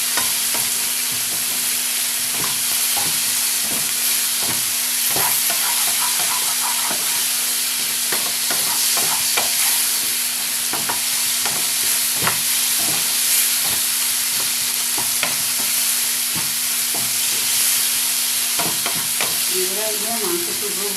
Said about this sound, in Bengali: মশলার সঙ্গে মাংসের টুকরোটাকে ভালো করে কিন্তু লাল লাল করে কষিয়ে নিতে হবে।